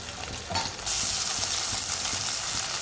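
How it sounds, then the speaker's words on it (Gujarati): Cumin seeds, ginger, chili and garlic hit hot oil in a pan, a sudden loud crackling sizzle that holds steady and close, with light stirring clatter and no voices. "મેં થોડું જીરું નાખી દીધું છે. જીરું તતરી જાય એટલે આદુ, મરચાં અને લસણ"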